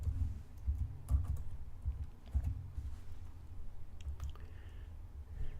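A password is typed on a computer keyboard in a quiet room: soft, irregular keystroke clicks scattered over a few seconds, with a couple of sharper taps near the end.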